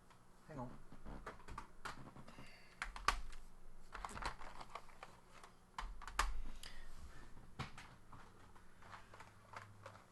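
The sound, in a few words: keys being pressed on a computer keyboard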